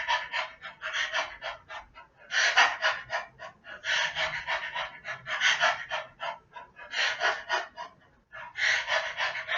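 Heavy, forceful breathing during a modified dumbbell swing, with rhythmic bursts of panting and gasping exhales in close succession, loud and near, broken by brief pauses, with no speech.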